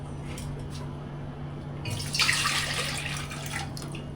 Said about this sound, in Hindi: देखते इसमें कितना पानी आता है।